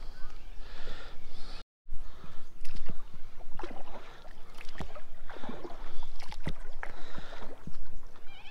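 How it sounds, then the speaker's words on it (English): A small boat is paddled on the Murray River at Katarapko Creek. Close, irregular paddle splashes and dripping water sit over a constant wash of flowing water, with no voices. "So we'll just paddle into this little lagoon here where there's a lot less flow."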